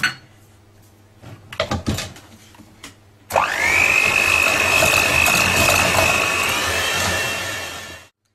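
Madeleine batter being mixed with whole eggs by an electric mixer, a steady whirring drone running loud and continuous for about five seconds after a few brief clatters.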